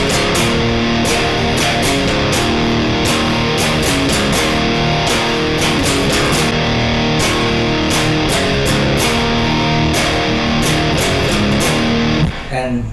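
Electric guitar plays a riff at full speed, a loud, dense, distorted line with driving drums, continuous and unbroken until it cuts off near the end.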